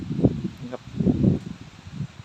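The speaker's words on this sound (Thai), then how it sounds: "ลมก็กำลังมาครับเนาะ" Wind stirs the dry, wilted leaves of a papaya tree in hot weather, making a few soft, low rustling gusts close by with no talking.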